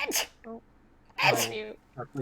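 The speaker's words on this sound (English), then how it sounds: "Excuse me. Gesundheit." A single sneeze bursts out sharply near the mic in the middle of a stretch of casual talk, with voices speaking both before and after it.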